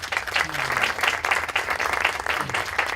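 Strong, sustained applause from an audience at a Catholic roundtable panel in Peru, steady and dense clapping filling the space with faint murmurs underneath.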